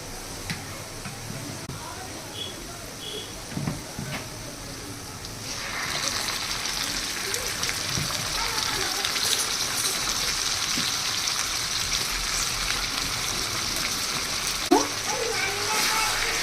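Chicken pieces hit a pan of browned fried onions for Afghani chicken, bringing on a steady, close hiss of sizzling that grows louder partway through and then holds.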